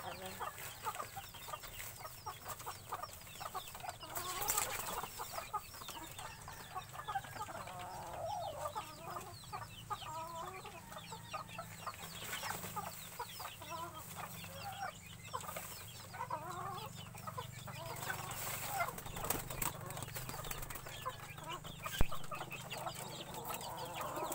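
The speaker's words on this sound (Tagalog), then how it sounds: "Tatalon at lalabas ang manok." Chickens cluck steadily through a busy farmyard scene during feeding, with occasional rustling and a sharp bump near the end; no wings flapping stand out clearly.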